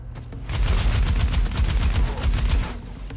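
Rapid gunfire in the Scathe video game as the player shoots at skulls, a dense, loud volley of bursts with heavy low booms running continuously for about two seconds before tapering off.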